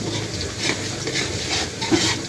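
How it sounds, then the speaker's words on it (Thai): Pounded garlic fries in hot oil in a pan, giving a steady crackling sizzle with light stirring scrapes and no voices. "ใส่น้ำมันแล้วก็ใส่กระเทียมเจียวเจียวกระเทียมให้หอมๆก่อนครับ"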